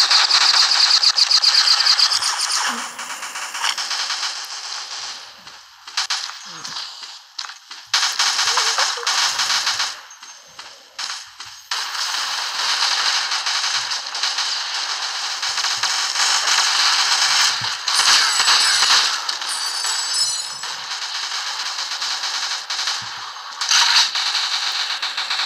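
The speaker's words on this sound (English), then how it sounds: "I need auto fire. I don't need to hit that button so I can steer and shoot at the same time" Automatic gunfire in the shooter game Shadowgun: DeadZone comes in long, dense crackling bursts with short pauses between volleys, loud and close over about twenty-five seconds, and no talking.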